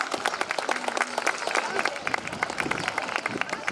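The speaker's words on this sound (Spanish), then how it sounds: "les pediría un fuerte aplauso" Festival audience at an afternoon parranda music event clapping steadily, a dense rattle of many hands with crowd murmur and a voice underneath throughout.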